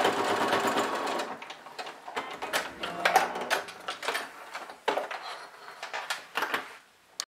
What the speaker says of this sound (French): Maintenant, je couds le bas